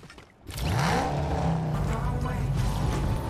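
A car engine in the Fortnite video game revs loud and sustained right after a short lull, a steady roaring drone that holds to the end.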